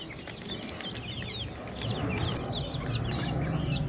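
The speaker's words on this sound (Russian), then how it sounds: "здесь обычные деревенские дворовые цыплята" Many small ordinary village backyard chicks peep and cheep in a busy overlapping chorus, close by, with soft rustling and a few clucks underneath.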